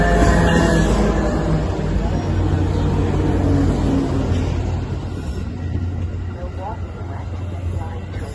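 Metra Milwaukee District West Line train pulling into Roselle station, a loud, steady low rumble of the locomotive and cars close by for the whole stretch, easing slightly toward the end.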